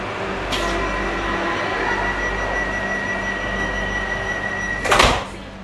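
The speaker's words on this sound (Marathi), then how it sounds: "बघा लाईट पेटते तर दरवाजे बंद होते." A Vande Bharat express train's automatic doors close at the platform: a steady electrical hum, then a single loud thud as the doors shut, followed by a quieter hum.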